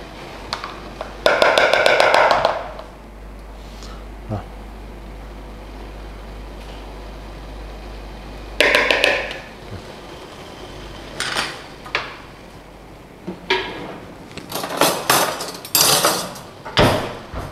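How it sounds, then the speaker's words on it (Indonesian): A potato masher works through cooked sweet potato in a pot, giving scattered metallic clanks and scraping knocks in irregular bursts, some loud and close, with quiet gaps between them. "pakai ini ya, potato masher ya, namanya potato masher ya, kayak gini modelnya"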